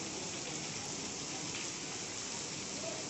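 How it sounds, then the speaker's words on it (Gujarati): Steady rain pours down in Chhota Udepur, a dense, even hiss of drops on surfaces that holds at the same level throughout with no voices. "વરસાદી માહોલ જામ્યો છે"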